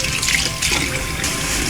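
Cold tap water runs steadily into a kitchen sink while beets and beet leaves are washed, a loud, close gushing splash continuing throughout.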